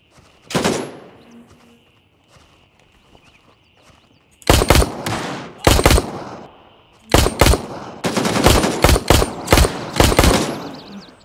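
Gunfire in the tactical shooter Gray Zone Warfare during a solo PvE mission: a single sharp shot, a few seconds of quiet ambience, then repeated loud bursts of automatic fire at close range, with no speech.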